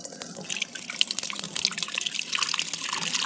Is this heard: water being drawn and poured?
yes